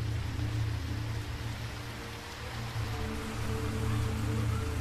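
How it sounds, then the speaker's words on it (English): Steady monsoon rain falls in a dry farming region, a continuous dense hiss of drops with a low rumbling undertone, even and fairly close throughout. "In June, the monsoon comes. 3 months of rain in an otherwise dry climate that nourishes the crops."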